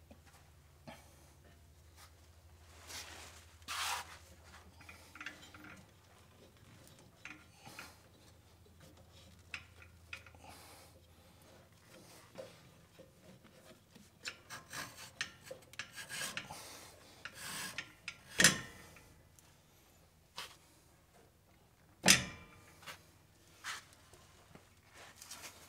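Drive belt being worked onto the crank pulley of a Bad Boy Maverick mower, with scattered rubbing and rasping scrapes, light clicks and two sharp knocks near the end, close and fairly quiet with no talk.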